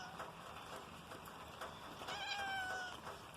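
A long-haired cat meows softly at close range outdoors after rain, a thin rising-and-falling cry heard once or twice over light background noise, with no talking.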